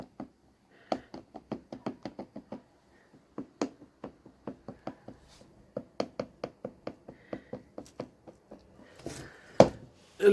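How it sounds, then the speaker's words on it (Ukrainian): Repeated sharp knocks from a worn CV joint on a Skoda Octavia Tour, rattling in loose bursts as the axle is pushed back and forth by foot, close and fairly loud with no talk. "Люфт, стук, грюк."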